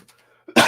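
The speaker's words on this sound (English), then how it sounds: "excuse me, had to cough there" A single loud, harsh cough bursts out abruptly after near silence, close to the listener.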